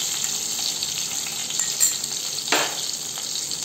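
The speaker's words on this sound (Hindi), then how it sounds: "तेल गरम हो गया है, अब इसमें तेजपत्ता, दालचीनी, सूखी लाल मिर्च," Bay leaf, cinnamon and dried red chilli sizzle in hot oil for a matar ghugni, a continuous close frying hiss with two brief louder crackling bursts and no talking.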